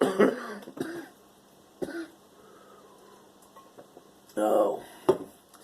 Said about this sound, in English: I've been wanting to cough this whole time.